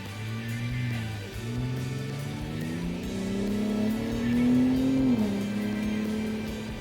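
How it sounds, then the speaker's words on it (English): A 2022 Ford F-150 Raptor's exhaust drones while driving, with engine pitch climbing through a few gear changes and swelling before a quick downshift near the end, then settling back; steady and fairly close, no talking. "So you can hear that nice little kind of rasp at the end. Really a good sounding exhaust."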